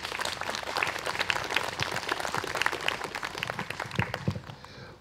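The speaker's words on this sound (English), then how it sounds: "So I'd like to give them a nice round of applause." An audience claps at a band concert at Glastonbury Abbey, a crisp, busy patter of many hands that holds steady and then thins out near the end.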